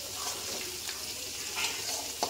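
Pieces of bhetki fish frying in a pan give a quiet, even sizzle with occasional soft crackles and a sharp little pop at the end, heard close up without any voices.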